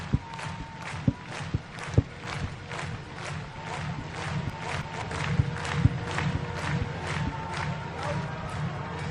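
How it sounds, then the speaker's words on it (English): A large crowd of thousands in St. Paul, Minnesota claps in unison at a tailgate party game event, steady rhythmic beats repeating under a continuous roar of crowd noise, with occasional sharper knocks. "Starting with some claps."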